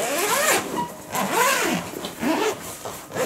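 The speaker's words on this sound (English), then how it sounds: "Let's unzip it for you." A zipper on a ToiLih synth bag for a Korg PA 50 is pulled open in several loud, close, rasping strokes, each sweep rising and falling.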